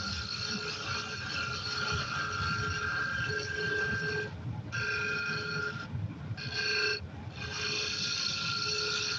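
A woodturning tool cuts wood on a lathe, giving a quiet, steady whining tone that breaks off briefly a few times as the tool is pulled back and reengaged.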